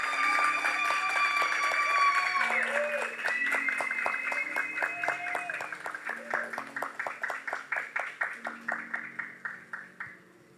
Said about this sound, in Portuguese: Um aplauso forte de vocês enquanto eles estão recebendo as lembranças